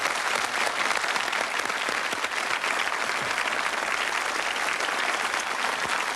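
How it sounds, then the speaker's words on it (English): A studio audience at a 1990 Cannon & Ball casino game show breaks into a loud, dense round of applause that holds steady and unbroken for several seconds. "give him a lovely round of applause"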